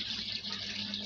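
Water is poured by hand into a Defy front loader washing machine, a continuous close rushing stream, steady and fairly loud, with no one speaking.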